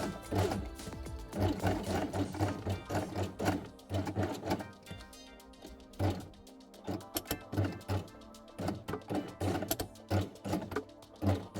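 Sewing machine stitching felt fabric pieces for a quiet book page with blue top thread and red bottom thread, running in repeated short bursts of rapid mechanical whirring separated by brief pauses.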